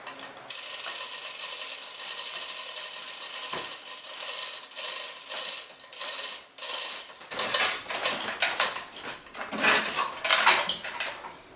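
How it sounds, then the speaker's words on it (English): A chain file rasps back and forth through a jammed, nearly cut piece during a roof-chopping car project, harsh metallic strokes in an uneven rhythm growing louder and choppier toward the end. "I decided I'm going to use the chain files and I'm going to pull on it with a strap."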